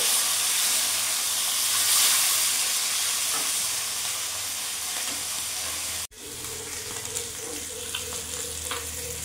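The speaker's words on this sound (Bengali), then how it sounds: "মাছটা একটু ভাজা হয়ে গেছে, আমি উল্টে দেবো।" Sarpunti fish sizzling in mustard oil after being turned over, a loud, continuous hiss with scattered crackles and pops that carries on steadily after a brief break.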